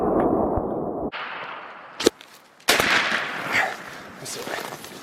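Shotgun blasts during a spring turkey hunt in Idaho, two sharp loud reports a moment apart in the open outdoors, mixed with rustling and people talking.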